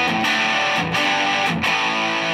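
Heavily distorted electric guitar chords from a Gibson Les Paul Custom through a small Fender amp's distortion channel ring out loud and sustained, with a few quick breaks between strums.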